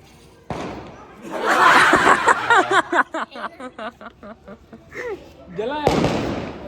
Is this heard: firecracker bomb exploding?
yes